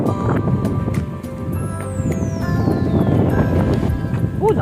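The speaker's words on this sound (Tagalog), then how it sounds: "Lakas ng hangin." Steady rushing wind buffets the microphone throughout on a bicycle ride by a river in Baler, with a low rumbling roar and a faint descending whistle in the background.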